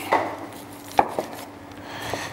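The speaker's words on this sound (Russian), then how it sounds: "Да, и нарезаем средним кубиком." A knife chopping vegetables into medium cubes on a board for Irish stew, a few sharp separate strikes with pauses between them, close and fairly quiet, with no talking.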